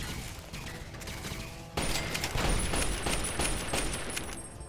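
Game combat in Fallout, A Tale of Two Wastelands: a sudden loud grenade blast followed by a dense crackle of gunfire and crashing impacts, continuous and close for several seconds.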